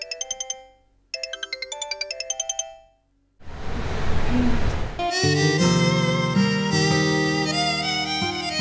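A phone ringtone plays loud and close: a bright, repeating melodic trill in two bursts with a brief pause, then a gap, a burst of noise, and a fuller, sustained musical ring tone with no voices over it.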